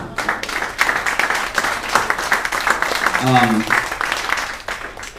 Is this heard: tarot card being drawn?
no